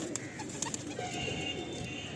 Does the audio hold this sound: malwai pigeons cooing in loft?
yes